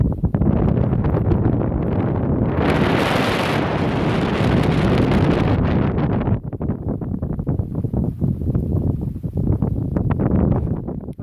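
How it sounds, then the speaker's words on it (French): Loud, sustained desert wind buffeting the microphone, a roaring rumble with gusts that surge and ease, filling the whole clip with no voices. "pour que vous sentiez un petit peu quand même la puissance de ce vent"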